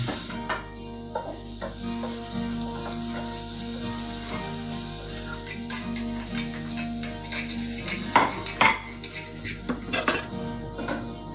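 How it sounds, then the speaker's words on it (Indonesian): Garlic and ginger stir-fry in oil in a wok, a steady low sizzle beneath busy metallic clinks and scrapes of a spatula against the pan, growing louder and more clattery toward the end. "lalu tumis bawang putih dan jahenya."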